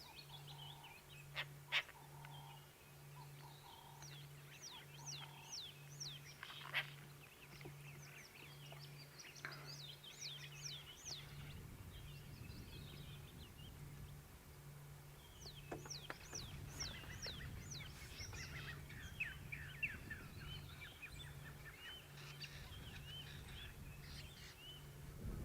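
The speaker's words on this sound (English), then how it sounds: "It's nice just sitting listening to the different birds." Various wild birds call at sunrise in Sabi Sand, a chorus of chirps, whistles and trills scattered across the scene at mid distance over a steady low hum, with no talking.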